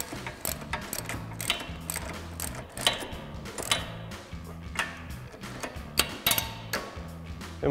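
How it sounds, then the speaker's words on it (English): Jeep Wrangler JK suspension bolts are tightened with an 18 mm socket and ratchet, giving repeated quick metallic ratchet clicks in short bursts, close and fairly quiet, with no talking. "switch out to our 18 mil socket and ratchet and 18 mil wrench for our bottom hardware"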